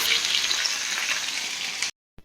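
Fish roe fritters fry in hot oil with a steady, close, dense sizzle that stops abruptly near the end.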